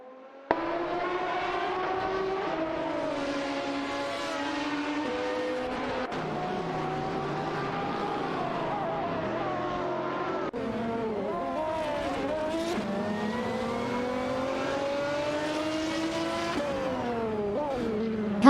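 Race cars, including a Porsche Carrera GTR, competing on a track in an AI racing game, engines droning continuously with rising and falling pitch as they shift gears and pass, loud and close, no talk.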